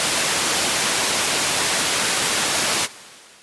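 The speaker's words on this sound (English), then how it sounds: "There you have it, pure white noise, all ready to make a patch with." Loud, steady hiss of white noise from an Ensoniq synthesizer fills the clip, then cuts off abruptly near the end to a much quieter hush.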